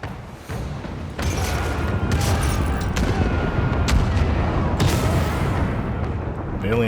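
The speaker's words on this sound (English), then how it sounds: "Fire the port cannons." Ship's port-side cannons fire in a naval battle video game, a dense, continuous barrage of loud booms and blasts rolling on for several seconds with sharp cracks scattered throughout and no pause.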